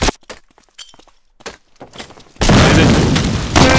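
Grenade explosions in a competitive first-person shooter match, with scattered small clicks and thuds followed by a loud, sustained burst of blasts and debris that fills the last second and a half.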